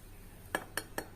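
Three quick, crisp snaps at close range as a crunchy eggless chocolate chip cookie is broken, each a short dry crack, evenly spaced within about half a second against a quiet background.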